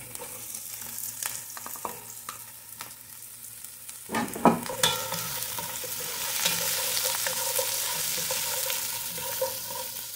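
Minced garlic dropped into hot oil for chicken sotanghon soup bursts into a loud sizzle partway through, then keeps frying with a steady crackling hiss and occasional stirring scrapes.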